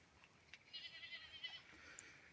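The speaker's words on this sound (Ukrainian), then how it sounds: "Десь сусідські кози" Neighbouring goats bleat faintly in the distance across a garden, a few soft high calls drifting over quiet outdoor background.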